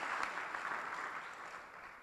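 At an awards dinner, guests give a short burst of applause for a sponsor, a moderately distant round of clapping that fades slightly toward the end.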